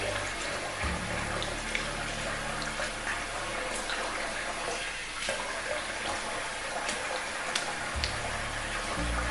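Water from a running tap rinses a safety razor after a shave, a steady hissing splash that continues for the whole stretch with no pauses.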